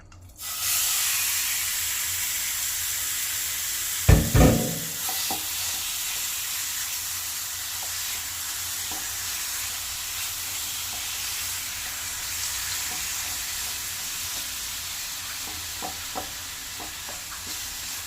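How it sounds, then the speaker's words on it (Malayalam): Marinated chicken hits hot oil in a pan with a steady, close sizzle and frying hiss, a sharp burst of crackling as it goes in, then a sustained sputter with occasional pops. "ഓയിൽ ചൂടായിട്ടുണ്ട്. നമുക്ക് മാരിനേറ്റ് ചെയ്ത് വെച്ച് ചിക്കൻ ചേർക്കാം."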